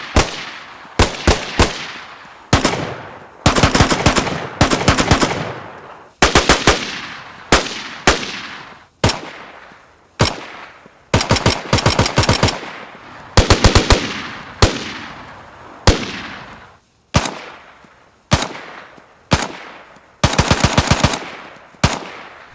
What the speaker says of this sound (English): The pistol sounds certainly have changed though, and here are some examples with the Deagle, CR75 and the